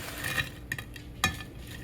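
Utensils scraping and clinking against a plate and dish as okra is served alongside a chuck roast in a home kitchen, three or four brief close metallic taps and clatters over quiet background.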